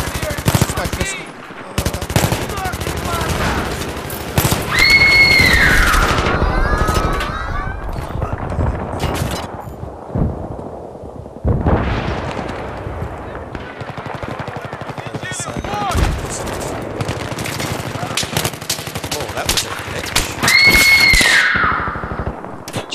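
Automatic gunfire in the video game Battlefield 3, with dense rapid bursts running through most of the stretch alongside excited players' voices and shouting.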